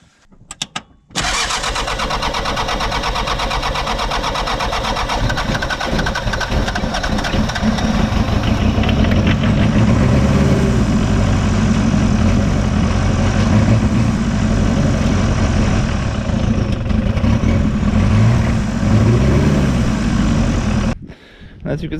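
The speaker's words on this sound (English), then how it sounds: "you can use normal gasoline for starting on cold starting on diesel engine" A diesel ranch truck engine cold-starting on gasoline poured in as starter fluid: a brief crank, then the engine catches and runs loudly at a steady rough idle for about twenty seconds before cutting off.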